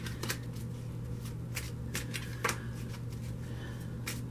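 Tarot cards are shuffled by hand in quiet, soft riffling bursts that repeat irregularly over a low steady hum, with no talking.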